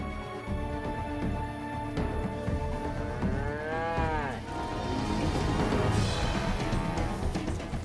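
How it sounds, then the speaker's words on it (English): A herd of cattle guarded by herders grazes on the mineral-rich land of Ngorongoro in Africa, with one long, loud rising-and-falling moo in the middle and lower lowing around it, all against an outdoor background. "Cows look like an easy target for the local lions."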